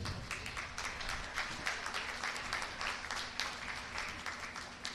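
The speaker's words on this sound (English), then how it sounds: "Let's give everyone a round of applause." A crowd at a 2019 ACCC baseball championship game ceremony applauds with steady, dense clapping that fills the whole stretch.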